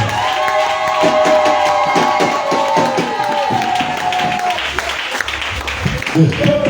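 Crowd at a Christian prayer gathering applauding and cheering for Jesus, dense continuous clapping with shouts and a sustained tone beneath, loud and steady throughout.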